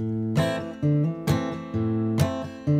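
Plucked guitar notes played fingerstyle, with quick follow-up notes sounded without a fresh pluck, in a steady repeating pattern of three phrases, close and clear.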